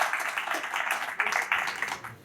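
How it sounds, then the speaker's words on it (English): Audience applause at a Ghana Day event at Trent University, honouring the international student body: a steady, fairly close patter of many hands clapping that swells briefly and then begins to fade. "just give it a round of applause for our international student body"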